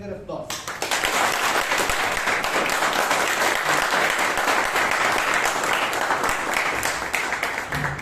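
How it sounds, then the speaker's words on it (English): An audience at a Toastmasters club meeting in Bangalore breaks into applause after an education session, a sudden loud onset of many hands clapping that then holds steady and dense, with some voices mixed in. "Toastmasters, I hope Prashanth deserves a bigger applause."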